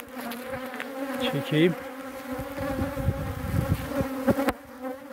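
Honeybees sun themselves outside their hive in September, a close, steady droning buzz that swells and dips as insects pass near, with a brief spoken word at the start.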